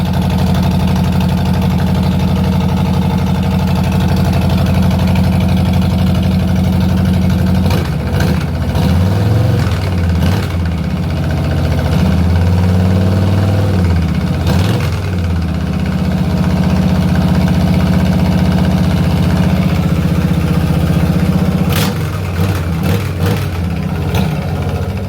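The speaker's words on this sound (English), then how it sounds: "Those exhausts, absolutely bloody marvellous, superb." A Harley-Davidson Street Bob motorcycle with newly fitted exhausts rumbles loudly and steadily at idle, with a few throttle blips swelling the deep engine note before it settles back to a heavy, close burble.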